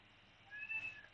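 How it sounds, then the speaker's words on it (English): A cat yowling outdoors, one faint drawn-out meow rising and falling over a second, distant and quiet above a low background hum. "Oh my god, my cat is screaming outside."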